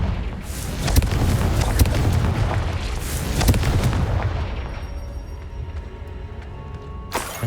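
A loud burst of fire and rumbling explosion from the Confringo spell in Hogwarts Legacy, with a dense roaring blast that sustains for several seconds before tapering into a quieter game ambience and a final sharp hit.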